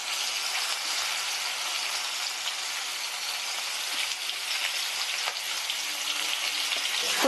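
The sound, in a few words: cauliflower frying in oil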